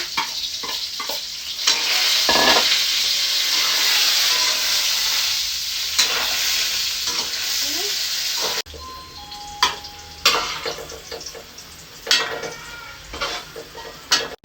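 Ingredients for a beef kaldereta sizzle in a frying pan while being stirred, a dense close hiss with utensil scrapes and clinks against the pan, then quieter patchy sizzling after an abrupt cut.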